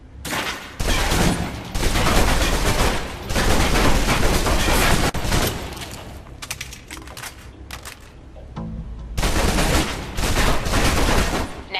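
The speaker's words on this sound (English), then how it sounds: "let's move on to the submachine gun. Now let's empty the clip" A submachine gun emptied in Alpha Protocol's training range, long sustained bursts of rapid rattling fire broken by short pauses, loud and close, with a quieter gap midway before a final burst.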